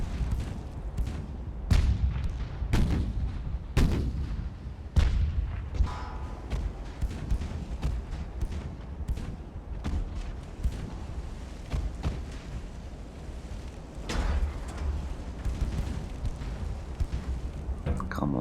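Naval artillery in Ultimate Admiral: Dreadnoughts booms repeatedly, with sharp gun blasts and shell impacts landing at irregular intervals, some loud and close, others fainter, over a low rumbling background.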